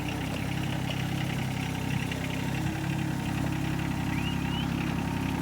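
A 1937 International truck engine idles nearby in a steady, continuous low rumble with a faint rhythmic knock and vibration, running alone without talk.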